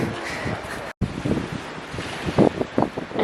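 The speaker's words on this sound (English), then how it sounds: "Enjoying the peaceful sound of the water." Water by the shore in Geneva, Switzerland, washes and laps in a steady wash of noise mixed with wind buffeting the microphone, with a brief dropout near the start and a few louder splashes toward the end.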